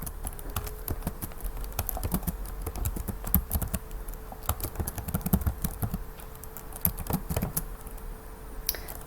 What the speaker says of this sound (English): And so we'll type